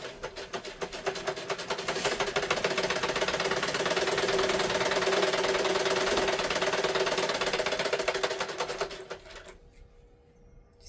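A sewing machine stitches a children's umbrella frock in one long, steady rapid run of needle clatter, close and loud, before stopping abruptly near the end, leaving faint quiet.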